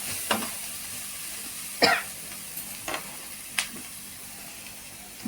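Oil sizzling steadily in a pan for cauliflower fry, a soft hissing bed broken by a few sharp spitting pops and crackles at irregular moments.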